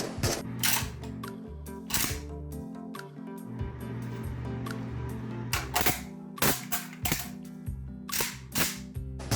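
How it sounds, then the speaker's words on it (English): AK-platform 5.45x39 rifle reloading in the Into the Radius VR game, a fresh magazine knocking out the old one, heard as a series of sharp metallic clicks and clacks with loud bursts of impacts between them. "you can reload them by using a fresh mag to knock out the old one"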